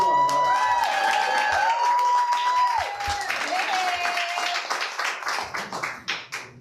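A crowd claps and cheers for a speaker coming up at a community gathering, with a tonal whistle over the applause at first, then the clapping thins into scattered, fading claps.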